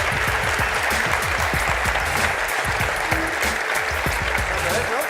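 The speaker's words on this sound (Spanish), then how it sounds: "un aplauso para Esfir y Almudena por colaborar aquí con" Applause from an audience at a light painting photography event, a dense steady clapping that fills the whole stretch at an even level, with low voices murmuring underneath.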